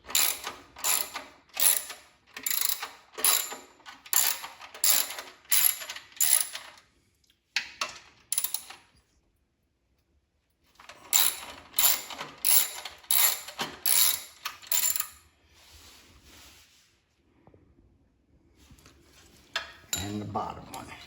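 Ratchet loosening the bolts on a DuroMax XP10000HX dual fuel generator during valve lash work, with bursts of rapid clicking strokes near and loud, separated by pauses and a short later run of clicks.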